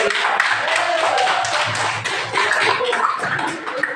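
A classroom of fifth-grade pupils claps together after a correct answer, a dense patter of hands filling the room for a few seconds with no speech over it.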